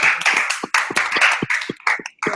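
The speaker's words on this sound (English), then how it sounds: "If you can unmute and clap for her." Clapping from people on a video call, a fairly close burst of quick, uneven hand claps from a few participants that overlap and thin out toward the end.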